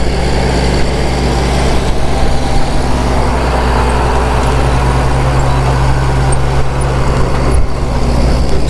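A John Deere 8230 tractor with big rear tires digs peanuts in a field. Its loud engine drones steadily and close throughout, with no talking.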